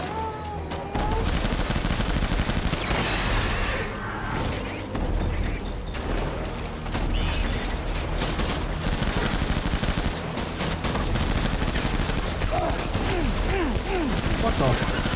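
Sustained gunfire in the video game Death Stranding, a loud, near fusillade of rapid shots and bursts with mechanical clanks, continuing almost without pause, briefly under a voice.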